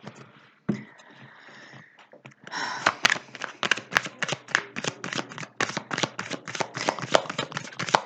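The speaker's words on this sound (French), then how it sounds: "je suis partie avec l'oracle, les cartes lumière" Oracle light cards are shuffled by hand, a faint rustle first, then a rapid run of crisp riffling flicks and slaps, close and dense, with no talking.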